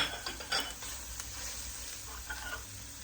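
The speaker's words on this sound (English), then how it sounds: "now we're going in with our celery" Chopped celery stir-fries in a hot pan for vegetarian pancit canton, a steady close sizzle with a few light clinks and scrapes of a utensil against the pan.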